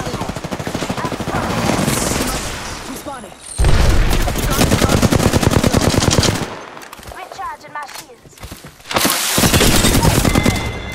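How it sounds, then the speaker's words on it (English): Rapid automatic gunfire and heavy shots crackle almost without letup in an Apex Legends match, broken by brief gaps. There are booming impacts and a faint voice under the din. "Shoot gun, bam!"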